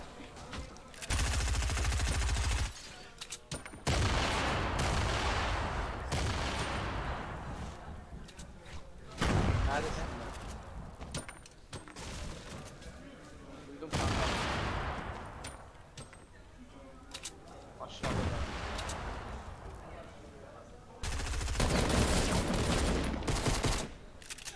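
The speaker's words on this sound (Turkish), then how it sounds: "Çok vurdu ya. Bana vurdu." Gunfire in Fortnite, loud bursts of rapid shots in several separate volleys with short gaps between them, and voices talking in between.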